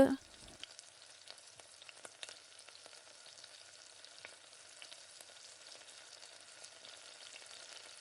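Yogurt is stirred into chicken biryani masala in a pot, giving a faint, continuous crackling sizzle with light scraping and scattered soft clicks.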